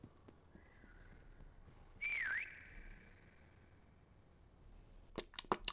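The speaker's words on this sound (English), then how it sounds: "We did just let off a whistle." A whistle taunt in the Prop Hunt video game, a single bright swooping whistle that dips in pitch midway through, followed later by a few sharp clicks, against quiet game ambience.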